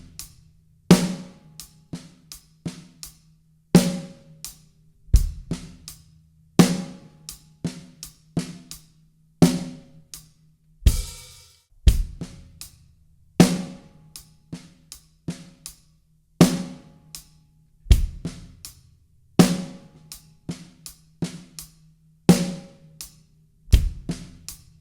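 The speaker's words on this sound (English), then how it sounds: "We're doing eighth notes on the hi-hat, and we're just going to do kick drum on beat 1 and snare drum on beats 2 and 4." A drum kit plays a steady beginner groove: eighth notes on the hi-hat, kick on beat one, snare on beats two and four, with soft ghost notes between. Each bar repeats in an even loop, close and alone.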